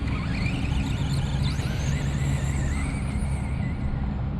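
An Arrma Granite 2s and a Traxxas Stampede 2s RC car race together, their electric motors giving a continuous high whine that rises and falls over a dense rumble of wheels. Both cars sound close and loud, with no talking.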